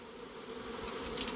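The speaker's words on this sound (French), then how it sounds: "Trop d'abeilles qui volent dans tous les sens." A swarm of honeybees recently settled in Vaux-le-Pénil buzzes after release from a box, a dense, steady droning hum of many wings, close and continuous with no voices.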